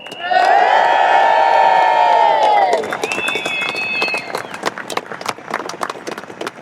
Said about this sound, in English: let's give all of them a loud cheer